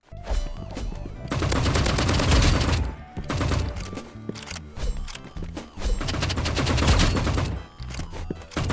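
Rapid bursts of automatic fire from a golden AK-47 in the video game Rivals, loud and close, rattling in several long strings broken by short gaps.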